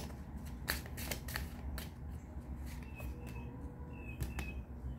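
Oracle cards shuffled and drawn up close at a quiet table, a series of short crisp flicks and snaps over faint background hum.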